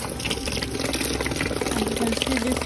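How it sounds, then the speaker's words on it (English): Water runs steadily from a kitchen tap while sweet potato is washed under it, a constant splashing rush with faint handling sounds. "and I'm going to wash it."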